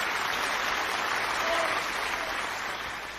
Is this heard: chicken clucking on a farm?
no